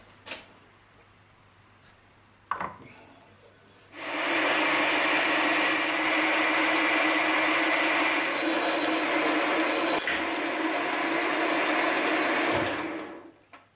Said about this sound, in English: So all I have to do is drill them a little bit bigger and make 2 more